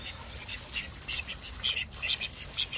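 Faint, scattered quacking of ducks and soft bird calls at a distance in a garden over low background rumble, with a few louder calls toward the end.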